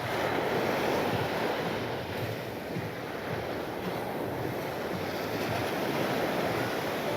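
Surf washes steadily onto a resort beach between Punta Brabo and Druif beach on a coastal walk, a continuous broad roar of breaking waves mixed with wind buffeting the microphone, with no voices.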